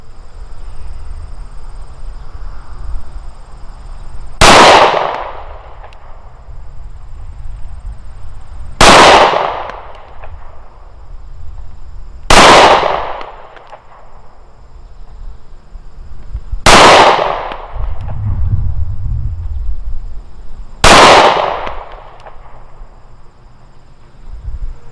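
Bersa BP9cc 9mm compact pistol firing Federal 147 grain rounds at an outdoor range, five loud sharp gunshots spaced several seconds apart, each ringing briefly, with quieter ambient noise between shots.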